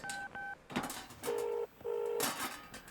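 Telephone number dialed as a quick series of about four touch-tone beeps with brief pauses and small clicks between them, clear and close, no talk.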